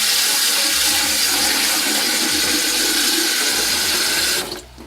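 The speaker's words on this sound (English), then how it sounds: "Pour some water in." Water pours steadily into an extra-large Chef's Path airtight food storage container, a loud, continuous splashing rush that cuts off abruptly near the end.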